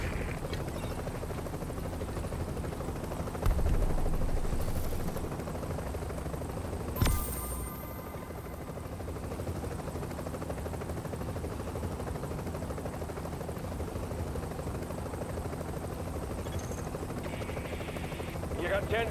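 A helicopter idles on the ground in a video game, its rotors thudding in a steady, loud, close drone with a couple of sharp clanks, while voices talk over it.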